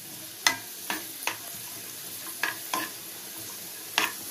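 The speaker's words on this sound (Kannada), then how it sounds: "ದ್ರಾಕ್ಷಿ ಹಾಕೋತಾ ಇದ್ದೀನಿ. ಸ್ವಲ್ಪ ಫ್ರೈ ಆಗಲಿ." Raisins fry quietly in a pan while a spoon stirs them now and then, giving a few sharp scrapes and clicks spaced over a low, faint sizzle.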